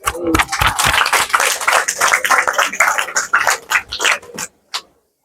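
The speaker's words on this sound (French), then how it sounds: "Mais nous allons quand même les applaudir." Audience clapping at a twentieth-anniversary celebration of a couples' association in Kinshasa, a close, lively round of hand claps that thins out and stops near the end, followed by silence.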